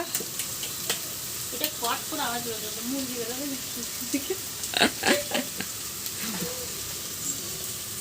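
Sliced onions sizzling in deep oil for mutton biryani, a steady fry under casual conversation, with brief clatters and stirring noises.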